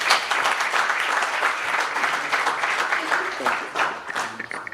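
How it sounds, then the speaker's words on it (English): Audience at a youth dialogue event on AI applauds a panelist, a moderately loud, even patter of many hands clapping that continues without pause and thins slightly near the end. "A round of applause for Ms. Nancy Msibi."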